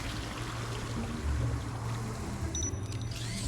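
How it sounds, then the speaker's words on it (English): A cleaning robot in the video game Beyond a Steel Sky sprays water: a steady hissing spray runs throughout, a dense rushing wash with a faint mechanical tone, close and continuous. "Commencing spray. Please stand back."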